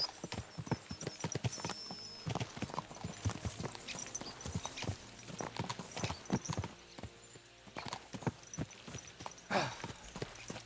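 Horses' hooves clip-clop along at a brisk pace in Kingdom Come: Deliverance 2, a dense, close run of overlapping hoofbeats with an occasional snort and a faint voice in places.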